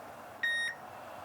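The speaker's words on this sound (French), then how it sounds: "Laissez un message après le bip sonore." Voicemail beep before leaving a message, a single clean electronic tone lasting about a quarter second, clear and alone over faint phone-line hiss.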